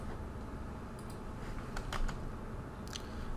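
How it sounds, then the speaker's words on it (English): Typing commands on a computer keyboard while configuring network routers in a console window; soft, fairly steady keystrokes with a few sharper clicks, close and alone. "So now we start typing the command."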